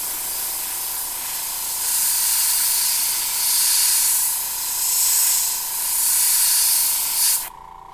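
Spray painting a crankbait fishing lure in a craw pattern: an airbrush hiss runs steadily with a constant tone, swelling in several close, loud passes before cutting off abruptly near the end.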